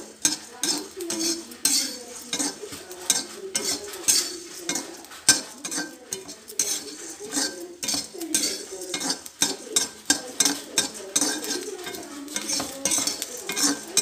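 Cumin seeds roast in a hot pan while being stirred for bisi bele bath, giving steady, close scraping and clinking of utensil on metal for the whole stretch, with no sizzle to speak of.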